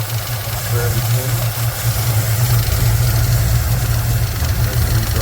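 An RV engine idles with a rebuilt carburetor fitted and the brakes freshly unseized, a loud, steady low rumble with a constant hum throughout and someone talking over it.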